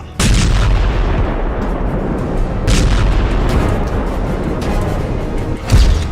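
A loud, continuous roar of aerial bomb explosions and heavy booms in the Russia-Ukraine war, with sharper blasts punctuating it at intervals and no voices.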